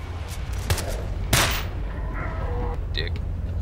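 Gunfire in the shooter S.T.A.L.K.E.R. Call of Chernobyl: a couple of sharp, loud shots ring out over steady background rumble, followed by quieter scattered noises.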